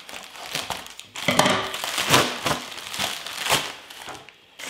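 Parcel packaging crinkles and crushes as the box is opened, in several bursts of crackling plastic and paper at close range with short pauses between them.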